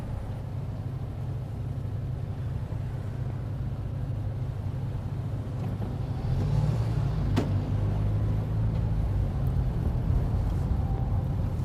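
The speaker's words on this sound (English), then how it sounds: "this car seemed reasonable enough, really" Interior of a car driving along London's King's Road, a steady low engine and road rumble that rises slightly as it picks up pace, with no talking.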